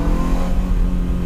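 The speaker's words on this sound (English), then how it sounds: "I love the way this car sounds" Ferrari engine held at a steady rev, a loud, close, continuous mid-pitched drone over a brief moment with no voices.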